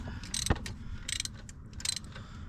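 Ratchet clicks on washers of a Cummins 5.9 engine in a Dodge Ram 3500, a few short bursts of metallic ratcheting, close and fairly loud, with a sharp knock between them.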